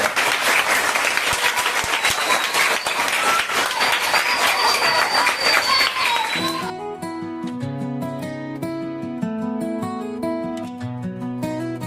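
An audience claps in sustained, dense applause for about six seconds, then stops as a melodic musical passage takes over.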